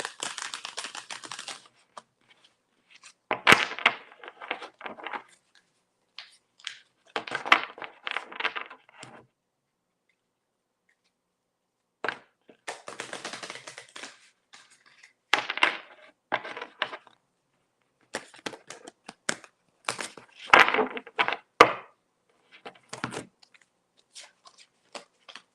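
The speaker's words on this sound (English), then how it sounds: "let me go ahead and shuffle these cards really quick" Tarot cards shuffled by hand in several separate bursts of crisp riffling and flicking, each lasting a few seconds with quiet gaps between, close and fairly loud, no voices.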